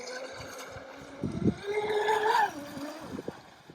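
A Traxxas M41 radio-controlled speedboat races fast across water, its high electric motor whine rising and falling amid splashing and gurgling, moderately close, with brief background voices.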